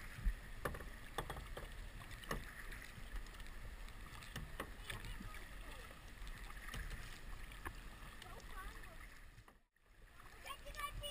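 Paddles stroke and splash on calm sea water during a kids' sea kayaking outing in Deep Cove, with an instructor's voice talking over the soft, steady water sounds throughout.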